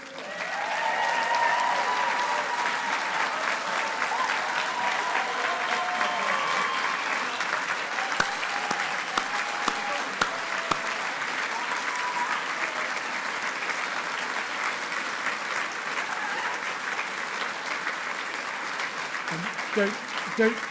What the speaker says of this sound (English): And a big round of applause for the winners.